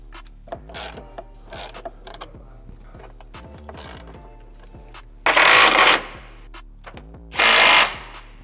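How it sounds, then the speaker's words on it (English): Bolts threaded in by hand during a clutch install on a Nissan 350Z, giving scattered light metallic clicks and taps, followed by two loud bursts of power-tool whirring and rattling up close. "start threading one of those bolts in"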